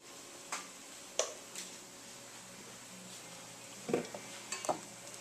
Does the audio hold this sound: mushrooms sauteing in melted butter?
yes